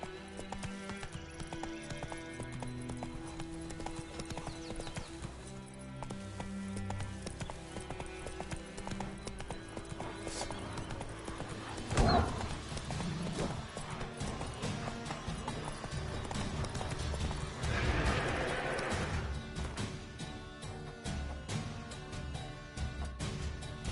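A horse in the video game The Witcher 3 gallops with rhythmic clip-clop hoofbeats and gives a loud neigh partway through, with game sounds around it.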